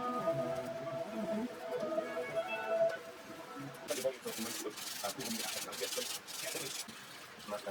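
Metal guitar frets on a Yamaha F370 acoustic being polished by hand, a steady close-up rubbing and sanding scrape that runs throughout with faint tonal ringing early on and brisker strokes later.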